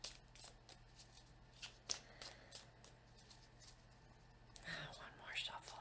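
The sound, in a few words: shuffling a deck of cards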